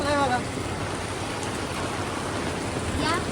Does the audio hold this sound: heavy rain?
yes